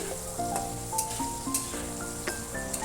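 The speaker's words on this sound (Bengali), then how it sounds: "আলুগুলোকে এবার একটু নাড়াচাড়া করে একটু হালকা হালকা লাল লাল করে ভেজে নেব" Potatoes fry in hot oil with a steady sizzle, stirred in the pan with occasional scraping clinks and faint tonal music underneath, no talk.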